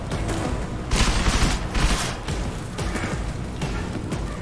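Rapid bursts of gunfire from Deus Ex: Mankind Divided crackle through a busy firefight, clustered near the start and recurring more sparsely afterward, with a steady mid-level din beneath.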